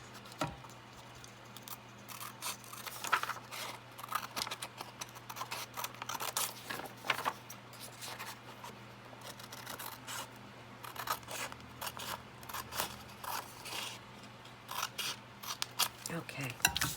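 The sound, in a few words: cutting junk mail paper with scissors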